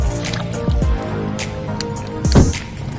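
A so-called magic stone dropped into water fizzes and bubbles loudly up close, with wet squishing gurgles and a couple of stronger bubbling surges.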